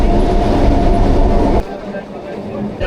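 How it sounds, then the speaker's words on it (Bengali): Namkhana local train running at speed past Kakdwip, a loud, close rolling rumble with rhythmic wheel clatter that drops suddenly partway into a quieter, steadier carriage hum. "এখন কিন্তু কাকদ্বীপ ছাড়িয়ে আসার পর বেশ ভালো একটা স্পিড টেনেছে"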